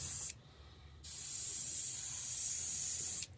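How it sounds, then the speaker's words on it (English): An airbrush spraying paint onto a crankbait lure, giving a steady high hiss that starts, cuts out briefly, then resumes and holds for about two seconds before stopping, close and clear. "Maybe, if I can get my airbrush to spray."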